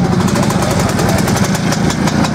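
An older DKW motorcycle, a 52 cc machine shown at a St. Wendel vehicle blessing event, runs with a loud, close, steady two-stroke buzz that pulses rapidly and evenly throughout.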